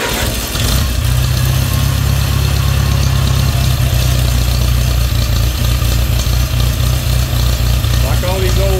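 An old Farmall Cub tractor engine catches after a brief crank and settles into a loud, steady, close idle that thrums evenly throughout.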